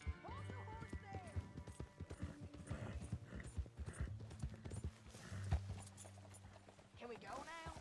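Horse hooves in Red Dead Redemption 2 clip-clop in a steady, close trotting rhythm, with a low droning tone beneath and a brief whinny near the end, layered under conversation between characters.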